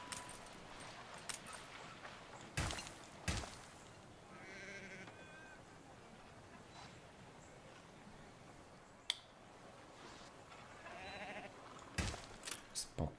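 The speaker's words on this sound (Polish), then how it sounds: "Dostawimy jeszcze jedną farmę owiec." Sheep bleat faintly around a sheep farm in the Anno 1800 city-building game, a few short calls scattered among clicks, snaps and soft background ambience.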